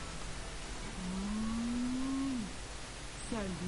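A cow moos in the video game LBA2, one long rising low moo followed by the start of a second, heard close over a steady game background hiss.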